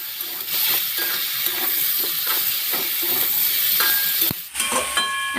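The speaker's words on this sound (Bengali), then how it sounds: "এখন সব কিছুর সঙ্গে বেগুনটাকেও ভেজে নেব।" Chopped eggplant frying with softened tomato in a pan for a cauliflower-stalk chorchori, with a steady close hiss and sizzle broken by repeated scraping stirs, then a brief dip and a few clinks near the end.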